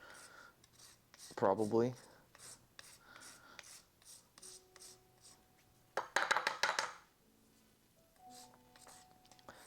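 Limes rasped against a fine grater, with short scratchy bursts of zesting at two points amid quieter rubbing and a brief spoken word.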